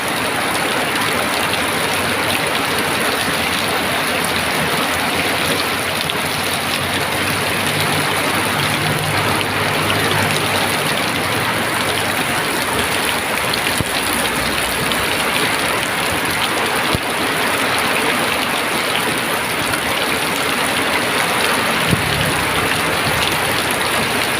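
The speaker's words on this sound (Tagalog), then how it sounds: "Lakas ng ulan guys oh." A downpour of heavy rain hisses steadily and loudly for the whole stretch, thick with splattering drops and a faint low rumble beneath, and nobody speaks.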